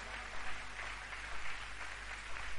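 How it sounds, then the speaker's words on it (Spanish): A church congregation applauds the musicians and singers after worship, a soft, steady patter of many hands that swells slightly in waves, heard from some distance. "Demos un aplauso a los músicos, a las hermanas que hicieron un tremendo trabajo"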